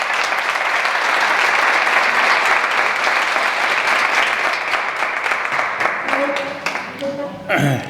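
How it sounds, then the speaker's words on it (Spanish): An audience at a Ciudadanos candidacy presentation for municipal elections bursts into loud, sustained applause that fills the room, then tapers off as a speaker begins talking near the end. "yo os pido un aplauso para Fernando"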